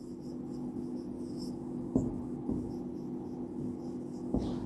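A teacher writes on the classroom board, a faint scratchy stroke sound with a few light taps against a steady room hum.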